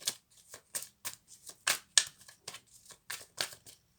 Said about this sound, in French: Allez, on va faire tomber 5 cartes.